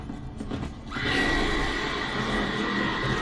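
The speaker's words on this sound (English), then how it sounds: "That horse got freaked out." A frightened horse neighs in a TV fantasy drama, a loud sudden whinny breaking in about a second in and ringing on under a rumbling, busy background.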